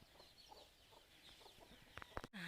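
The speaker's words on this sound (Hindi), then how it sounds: "ये मुर्गा का आवाज़ है।" Rooster clucking and calling in a rural morning setting, several short faint calls scattered over soft background noise, ending with a louder burst and a brief rustle.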